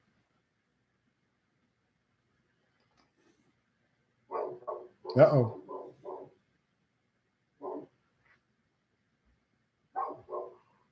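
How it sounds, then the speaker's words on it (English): A dog barks in short bursts: a cluster of several barks, then single barks a few seconds apart, against a quiet background. Someone says a brief word. "Can you hear the dog barking?"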